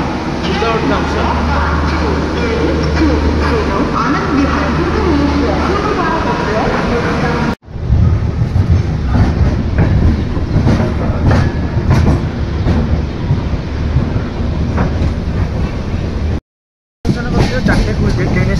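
The Dhauli Express rattles out of Bhubaneswar, a loud steady roar of wheels and carriage noise heard from inside the train, with a person talking over it and brief dropouts partway through.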